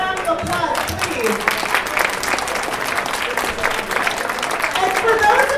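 An audience at a live event gives a steady round of applause, a dense, continuous patter of many hands clapping that holds at an even loudness throughout.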